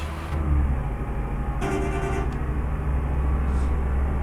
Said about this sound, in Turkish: Kornalar zaten biliyorsunuz genelde bunlara öyle kornalar takılır.